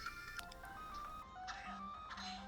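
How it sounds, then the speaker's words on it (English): A phone ringtone chimes in a repeating electronic melody of bright tonal notes, several short phrases recurring across the stretch, fairly clear against a quiet background, with no talking. "my phone's ringing again"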